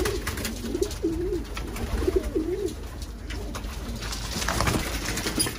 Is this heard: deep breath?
no